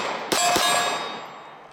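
Two sharp, loud shots in quick succession from a Walther PPQ subcompact 9mm pistol fed from a 10-round extended magazine, each followed by a ringing metallic decay that fades over the next second.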